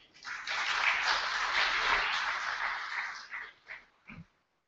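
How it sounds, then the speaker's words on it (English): Audience clapping at a university Board of Governors meeting, a broad sustained burst that holds steady for several seconds, then thins into a few scattered final claps before stopping. "please applaud to your generosity"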